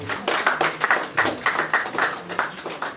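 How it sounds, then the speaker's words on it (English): Audience clapping at a Mr Teen Nigeria pageant as a contestant representing Niger is introduced, a steady mass of overlapping claps filling the hall, fairly close and continuous with no voices over it. "Put your hands together for Mr. Team Niger"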